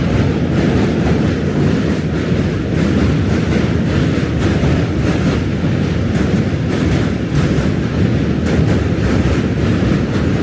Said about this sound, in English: N train coming through.